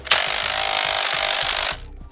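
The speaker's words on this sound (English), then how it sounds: "grab a 24mm and tighten this shit down" A power tool runs a 24mm socket to tighten a nut on a transmission mount of a 2012-2020 Ford Focus ST, a loud, steady buzzing rattle lasting under two seconds before cutting off abruptly.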